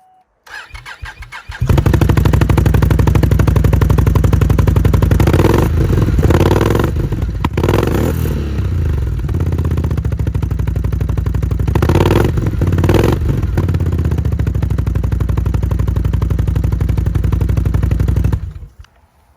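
A Can-Am Renegade ATV with an FMF titanium exhaust and its baffle removed cranks and fires, then idles loud and close with a deep raspy burble, revving in a few sharp blips before cutting off.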